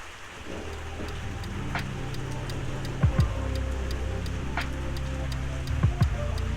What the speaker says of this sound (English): I cannot believe the thunderstorm.